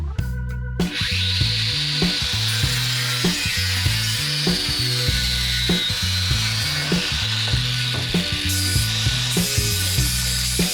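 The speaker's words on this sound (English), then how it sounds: "So now the plastics, let's start some cutting and see how far we can get this up." Car interior plastic being cut during a Golf 2 rally build: a steady, close rasping saw-like cutting noise runs nearly the whole time in a repeating stroke rhythm, loud and continuous with no talk.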